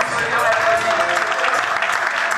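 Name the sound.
audience applause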